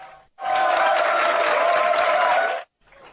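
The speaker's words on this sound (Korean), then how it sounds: "문무대왕 식당에 문재인 대통령이 나타나자 장병들의 환호가 쏟아집니다." Soldiers in a navy destroyer's mess hall break into a loud burst of cheering and applause, a dense roar of voices and clapping that starts abruptly and cuts off after about two seconds.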